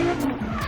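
A drift car at Irwindale, California, held on throttle through a corner, its engine roaring loud and close while the tires skid and squeal continuously with a wavering pitch.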